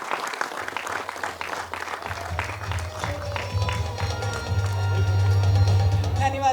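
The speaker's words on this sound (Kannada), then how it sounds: "ಜೋರಾದ ಚಪ್ಪಾಳೆಯೊಂದಿಗೆ" Applause from an audience at an award ceremony in Kannada-speaking surroundings, clapping building and swelling louder toward the end, with voices and other sounds mixed in.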